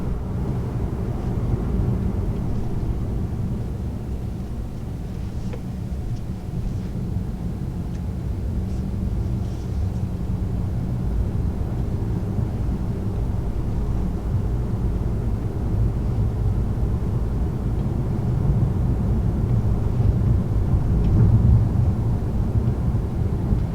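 Steady low engine and road rumble from a 2019 Honda Accord with the 1.5 turbo engine while driving, a subdued continuous drone that swells slightly toward the end, with no talk over it.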